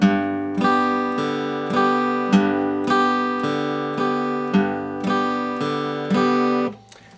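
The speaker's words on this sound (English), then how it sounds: "I'm hitting the low note, low G on string 6, and I'm just strumming strings 1, 2, and 3" An acoustic guitar plays a steady bluegrass pattern in C, a low G bass note on the sixth string alternating with chords strummed on strings 1-3 in an even rhythm, ringing out clearly before a final damped stop.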